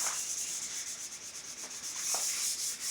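Steady hand sanding on the finish of a vintage Gibson Les Paul Custom, rubbing off gloss with a continuous close, hissing scratch in a fairly even back-and-forth rhythm, with no voices.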